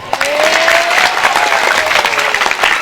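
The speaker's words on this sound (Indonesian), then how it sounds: "Tepuk tangan dulu." Loud, close applause from a crowd, continuous clapping with a few cheers or whistles rising over it.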